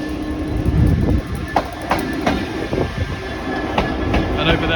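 Class 66 freight locomotive 66192 passing on the Great Western Main Line at Acton, a steady loud rumble of wheels on rails with rhythmic clickety-clack joint knocks, no speech.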